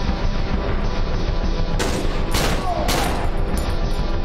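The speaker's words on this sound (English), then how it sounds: "shoot the guy that shot me in the shoulder." Gunfire in the horror game Cry of Fear as an enemy is shot, with several sharp loud shots cracking over a constant dense noisy background within a few seconds.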